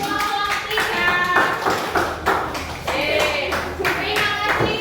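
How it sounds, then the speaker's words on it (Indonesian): A classroom of students claps for group 3 with a sustained burst of applause, mixed with voices talking. "kita tepuk tangan untuk kelompok 3"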